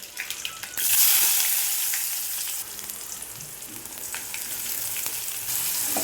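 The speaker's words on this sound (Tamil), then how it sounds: "அடுத்ததாக அரிஞ்சு வச்சுருக்கிற வெங்காயம் இதை நம்ம போட்டுக்கலாம்" Chopped onions hit hot oil already crackling with mustard seeds and curry leaves, setting off a loud hissing burst that settles into steady, close sizzling frying with occasional pops.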